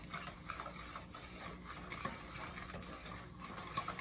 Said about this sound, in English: Now, we're just going to whisk this together.